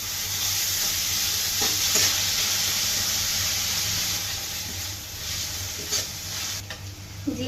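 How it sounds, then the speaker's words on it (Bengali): Chopped onions sizzle and crackle in hot oil in a wok, a steady close frying hiss with stirring scrapes running throughout, no voices. "চুলায় কড়াই বসাই দিচ্ছি, এবার তেল দিয়ে দিব। পেঁয়াজ কুচি দিয়ে দিব।"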